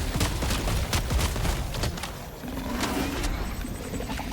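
Repeated gunshots are fired at a Bile Titan in Helldivers 2, muffled booms and crackling bursts under a dense battle din, fairly close, with no voices.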